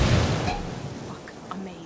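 A frag grenade detonates in the video game Ghost War, a loud broadband blast right at the start that rolls off into a fading rumble over about two seconds.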